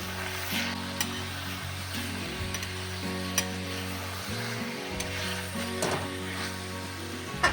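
Cabbage sizzles in oil with a steady hiss, punctuated by occasional scraping and clacking of a spatula stirring the pan; a low hum runs underneath.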